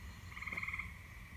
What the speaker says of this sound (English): Well, them frogs are loud tonight.